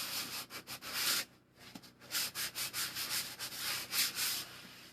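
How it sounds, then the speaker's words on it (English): Sandpaper rubs back and forth on waxed, painted fabric, making close, steady scratchy strokes in a regular rhythm with one short pause. "But taking the sandpaper to it"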